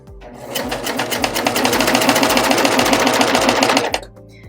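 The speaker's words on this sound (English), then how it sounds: "I'm going to use my serger because I have one and I'm going to be using it today anyways" A serger runs continuously, stitching around the edge of a fabric pillow cover with a rapid, steady mechanical chatter for about four seconds before stopping abruptly.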